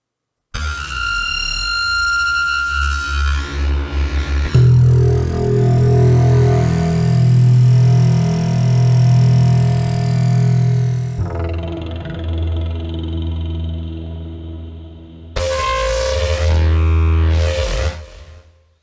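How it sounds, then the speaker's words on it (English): Granular synthesized tones from a sound library play alone in several distinct sections, shifting between shimmering, rippling textures and deep, droning layers with abrupt changes between them. "And then granular tones."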